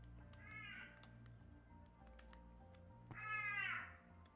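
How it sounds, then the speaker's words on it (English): A crow caws twice, once near the start and again louder toward the end, harsh and nasal over a steady low background hum. "Might have been a crow that you heard."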